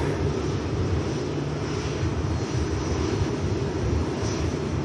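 IndiGo airliner at Manchester Airport, a steady, fairly loud broadband engine roar that holds level throughout without clear rise or fade, with no talk over it.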